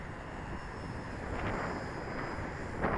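A Skywalker 1830mm model airplane in flight, its motor giving a steady, broad drone at moderate distance, with faint rushing wind over it and no talking.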